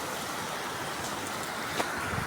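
Steady rain at a ceramics site in Nilphamari, a continuous broadband hiss without breaks, with one faint brief tap near the end.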